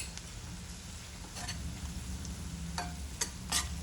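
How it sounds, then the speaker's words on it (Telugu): Onions frying with turmeric in a pan over a medium flame, a quiet steady sizzle with occasional light clicks of a spoon stirring, no voice. "పసుపు వేసుకున్నాము అని అంటే మనకి పచ్చివాసన పోయేంత వరకు మనకి ఆనియన్స్ కూడా ఫ్రై అయిపోతాయి"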